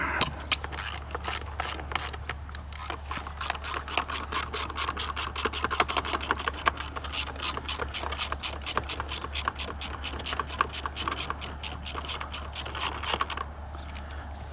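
A ratchet wrench backs out 10 mm bolts on an outboard motor with a rapid, continuous run of close, crisp clicking that lasts for over ten seconds over a low background hum.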